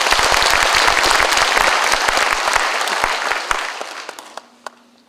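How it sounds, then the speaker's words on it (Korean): Dense, loud applause from a gathered crowd of citizens honoring Mungyeong city hall officials at a mayor's farewell ceremony, steady clapping that thins and fades out over the final second. "이 시청 공무원들에게 다시 한번 우리 격려의 박수 한번 쳐주십시오."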